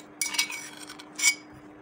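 Desi garlic cloves pounded into a paste with a wooden pestle: a few scraping, clinking strikes close by, one cluster early and another about a second later, with no talk.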